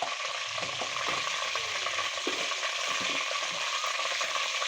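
A spoonful of cumin seeds sizzles in hot oil and ghee at the start of a white chicken karahi, a dense, continuous close-up crackling hiss with faint stirring, no voices.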